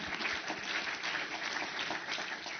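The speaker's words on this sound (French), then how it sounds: "je vous demande d'applaudir Stéphane, Gio et Patricia" Conference audience at a talk on African and European cities facing climate change claps steadily, a dense, fairly distant patter of applause that stays even for a couple of seconds.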